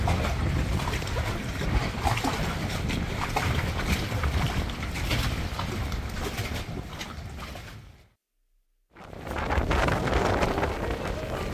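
Strong wind at night on a sailboat in the Aegean Sea, roaring steadily against the microphone with gusty buffeting, cutting out briefly near the end before returning just as loud.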